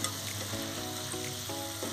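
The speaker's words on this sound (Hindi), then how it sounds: "अब इसको लो फ्लेम पे ही कुक करना है जब तक हमारे आलू ना गल जाए।" Potatoes cooking in a pan over a low flame, giving a steady soft sizzle and frying crackle throughout with faint stirring movement, fairly quiet and with no talk.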